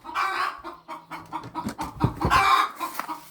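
Several laying hens cluck and squawk close by as they are fed, their busy calls overlapping in a steady, lively stream.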